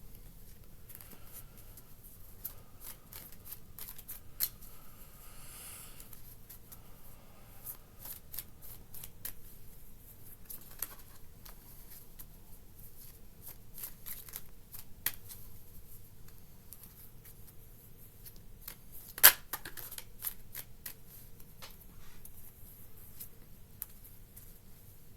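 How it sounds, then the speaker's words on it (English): Tarot cards are shuffled and pulled in a quiet room, a faint, soft patter of card rustling with occasional sharper clicks and no speech. "I'm going to pull some more cards."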